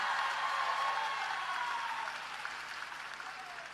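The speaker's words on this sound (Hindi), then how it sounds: "अगर है तो जोरदार ताली बजाओ एक बार संजीव भाई के लिए।" An audience at a live speech applauds for Sanjeev Bhai, a dense wash of clapping from a large crowd that starts strong and gradually thins out.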